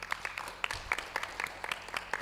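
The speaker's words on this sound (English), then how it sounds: "Let's give a clap to Jessica first." A small online audience of summer pharmacy course participants claps for a student presenter, sparse and irregular individual claps at low level, with no talk over them.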